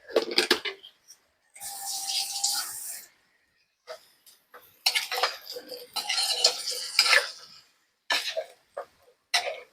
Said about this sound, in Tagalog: I-mix lang natin to guys hanggang sa maghalo siya